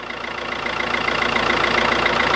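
A van engine running just after being jump-started on a freezing cold morning: a steady, close idle with an even mechanical throb that grows slightly louder, with no talk.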